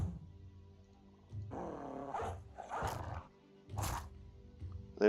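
Snarling, growling war dogs attacking in the tactical video game Battle Brothers, several rough barks and roars in separate bursts over a quiet low background hum.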